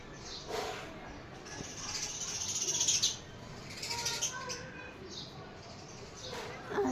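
Sparrows and doves chirp near a nest at midday, with a steady wash of small tweets and a louder burst of calls in the middle, fairly close, over faint background noise.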